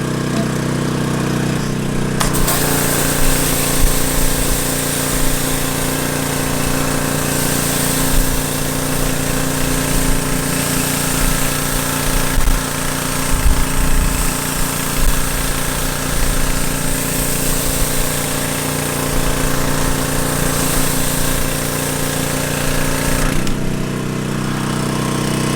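A pressure washer drives a Mekoh 15-inch surface cleaner across a driveway, giving a loud, steady engine roar with a constant broadband spray hiss that starts after a brief pause and runs unbroken for about twenty seconds before cutting off.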